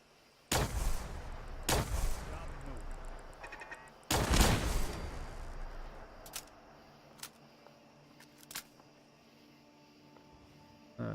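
Gunfire in Fallout 4: several loud broadband shots at irregular intervals, a couple of heavy blasts early on and sharper, quieter cracks later, with a faint background hum and no talking.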